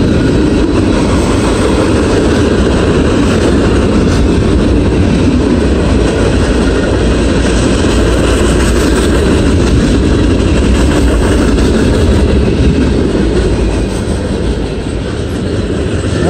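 A loud, steady rumble of a passing eastbound freight train led by SD40-2 and SD40-3 diesel locomotives near Deshler, with engine drone and rolling wheel noise, continuous and close throughout.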